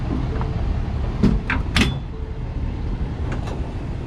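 A fifth wheel trailer hitch locking onto the pin box, a few sharp metallic clicks and clunks heard close over a steady idling truck engine.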